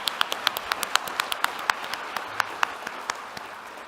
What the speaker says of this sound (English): Can we just have a quick round of applause for everyone through there?